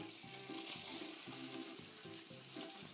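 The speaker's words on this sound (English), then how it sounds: "We're gonna basically just sear this fish on each side" Fish searing in a hot pan with lemon and butter gives a steady, close sizzle and crackle, with watery bubbling throughout and no talking.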